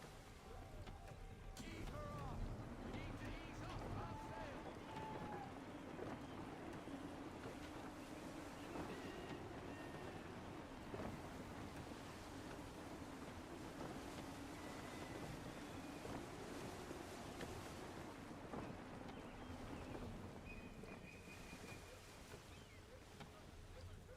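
Steady wind and ocean waves rush continuously around a sailing ship in Assassin's Creed III, a broad constant wash with occasional gusts, and faint voices murmur beneath it.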